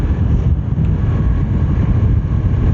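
A Honda CBR 500R motorcycle cruising in 6th gear on a road, heard as a steady low engine drone mixed with heavy wind buffeting on the microphone. The sound is loud and continuous throughout, with no talking.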